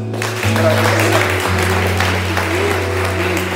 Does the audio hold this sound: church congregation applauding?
yes